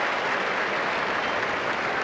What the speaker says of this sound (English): Crowd getting more and more vocal as we get deeper and deeper into this.